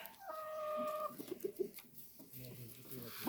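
Hens wander back and forth around a farmyard, giving soft clucks and short calls nearby, while a person talks over them.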